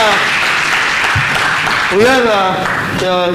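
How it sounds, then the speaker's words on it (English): An audience of students at an achievers' meet applauds, a full, steady clatter of many hands, while a voice speaks over the clapping toward the end. "I think one round of applause, please, first of all."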